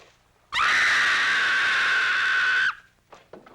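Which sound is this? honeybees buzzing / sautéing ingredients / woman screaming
woman screaming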